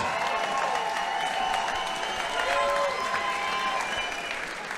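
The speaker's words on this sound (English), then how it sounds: "Big round of applause here for our two fighters in the cage." Steady applause from a crowd at a cage fighting event, sustained and fairly loud throughout, with a few faint cheers mixed in.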